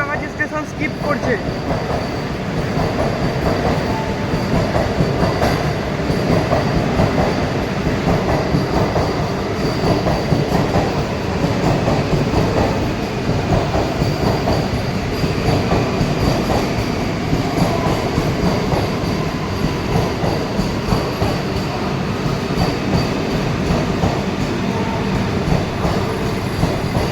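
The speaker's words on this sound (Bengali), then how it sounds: "হাওড়া পুরী বন্দে ভারত সাঁতরাগাছি স্টেশন স্কিপ করছে।" Howrah–Puri Vande Bharat express running through Santragachi station without stopping, a loud continuous rumble of wheels and carriages roaring past close by for the whole stretch, steady and unbroken.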